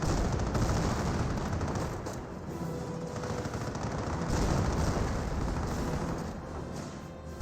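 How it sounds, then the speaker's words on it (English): Dense gunfire in Company of Heroes as a rifleman squad comes under fire, a continuous loud crackle of rifle and machine-gun shots with battle rumble, no voices. "Rifleman squad receive a bit of fire there."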